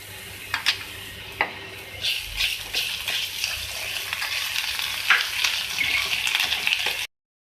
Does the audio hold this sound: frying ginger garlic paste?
yes